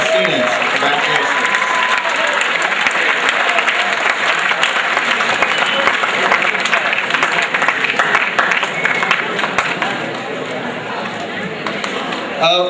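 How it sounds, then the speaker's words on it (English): Audience at a student awards show applauds the 1-star students: a long, dense wash of clapping lasting over twelve seconds, with scattered chatter and a few voices mixed in, tapering slightly near the end. "Let's give a round of applause to all our 1-star students"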